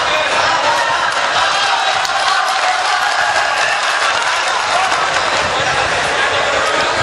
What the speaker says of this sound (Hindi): जोरदार तालियों से आप उन्हें माइक पर बुलाएं